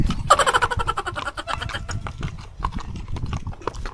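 A horse's hooves clip-clop in a quick, steady rhythm during a horseback ride on a farm in Pililla, Rizal, close and clear with no talking.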